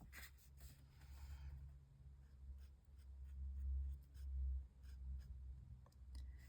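An Ohuhu alcohol marker with a small nib colours in a picture, giving soft, faint scratchy strokes in short repeated bursts against a quiet room.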